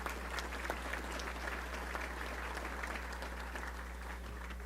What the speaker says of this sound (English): Let's give all those folks a great round of applause.